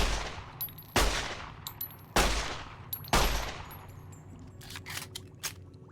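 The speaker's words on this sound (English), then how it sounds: "Let's at least listen to the new gun sound and the new gun animations." Four loud, spaced gunshots from the Long 15 rifle mod in Fallout: New Vegas, each a sharp crack with a decaying tail, separated by mechanical clicks and handling noises.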